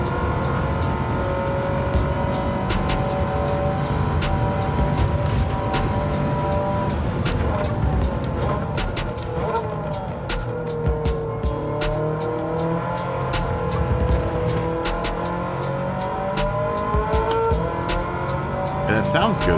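A race car engine in the video game Gran Turismo 7 drones and revs steadily, its pitch rising and falling, with tire noise and a voice talking over it.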